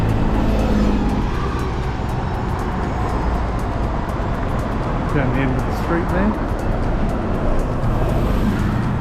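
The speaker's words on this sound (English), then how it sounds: "Traffic picking up as we leave the centre of the city." City traffic in Glasgow near the cathedral, a steady engine rumble and passing cars close by, with a voice talking over it.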